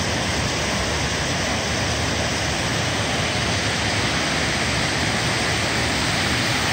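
Water pours over the dam spillway on the Deerfield River at Shelburne Falls, Massachusetts, a dense, steady roar of rushing water that stays constant and loud throughout with no other sounds.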